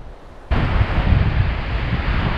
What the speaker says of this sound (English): because I'm trying to beat the wind